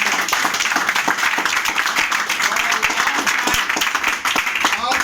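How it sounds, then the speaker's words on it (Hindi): Long, loud applause from a class of students at a spoken-English coaching session, continuous dense clapping with sharp individual claps standing out, steady throughout. "जोरदार तालियां लॉन्ग।"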